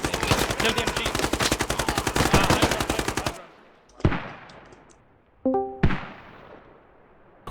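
Machine gun fire in a 20-versus-20 multiplayer shooter match, a long rapid burst of close, loud shots that stops abruptly, followed by a few scattered single shots and echoes.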